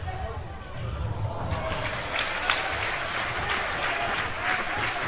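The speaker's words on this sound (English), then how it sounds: "the crowd are really appreciating the effort the England players are putting into this game" Football crowd applauding England players during an England versus Switzerland match, a broad steady wash of clapping from a large stadium audience, continuous throughout.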